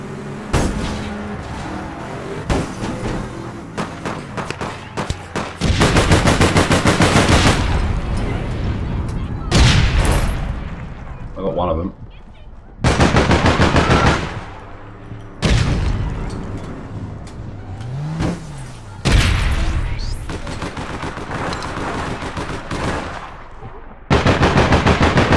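Bursts of automatic gunfire and single shots ring out in the online shooter APB Reloaded, loud and close, coming in repeated volleys with short pauses between them, a few booms mixed in, and a brief voice at one point.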